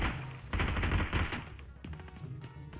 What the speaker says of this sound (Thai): ยิงมาแล้ว